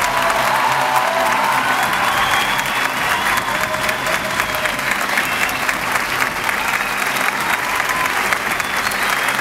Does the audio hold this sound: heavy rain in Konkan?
no